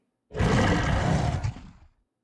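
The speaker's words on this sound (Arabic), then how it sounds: "هذا هو صوت هرير النمر" A tiger growls once as a sound effect in a children's story, a loud, deep, rough roar lasting about a second and a half before fading out, heard alone.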